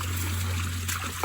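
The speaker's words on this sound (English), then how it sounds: "So that's aerating the pond, sending water back into the pond again." Water from a pond aerator trickles and splashes steadily back into a pond that needs cleaning, a close, continuous liquid patter over a low hum.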